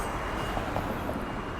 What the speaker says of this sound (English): stop for a tram.